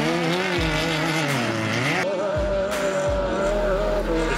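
Off-road race cars at the Mickey Thompson New Zealand Offroad Grand Prix race side by side, engines screaming loudly and continuously, pitch rising and falling as they rev through gear changes.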